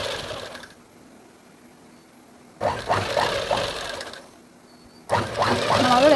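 A sewing machine stitches the corners of cloth in two close, steady bursts separated by quiet pauses, the motor whirring loudly each time the needle runs.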